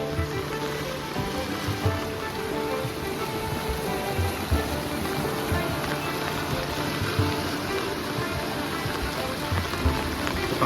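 Heavy first monsoon rain pours down over a village, a dense continuous hiss of drops on surfaces with low rumbling underneath, steady throughout.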